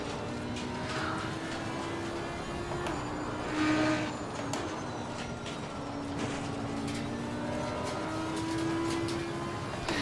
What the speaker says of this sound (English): you do really hear the runoff much clearer in this Ferrari, little pops and crackles